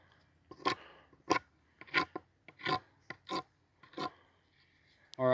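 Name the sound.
grinding sharp edges off a shelter piece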